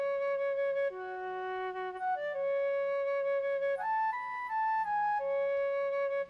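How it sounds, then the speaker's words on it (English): A flute melody from a trap beat plays alone, a clear breathy line of sustained notes stepping up and down in a slow phrase, steady in level with no talking. "there's also this little flute melody that comes in."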